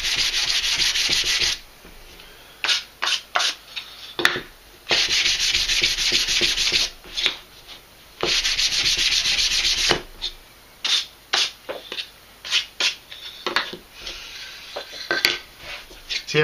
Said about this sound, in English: nice little bit of sanding with 400 grit on top.